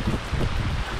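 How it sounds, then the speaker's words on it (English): Strong wind gusting to about 40 knots roars with rain across a sailboat at anchor, a dense, continuous rush of noise that is loud and close, with no voices. "the rain and wind picked up and we saw 40 knots of wind."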